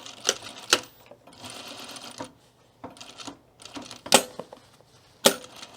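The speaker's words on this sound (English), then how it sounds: "Now I'm going to stitch from this side." A sewing machine stitches a split tool belt in short runs of rapid, close mechanical chatter, broken by sharp clacks and brief quiet pauses between bursts, with no voices.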